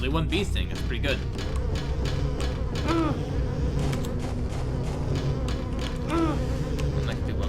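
A continuous swarm-like bee buzz in the video game Silent Hill 4, steady and close, with short game sound blips rising over it now and then.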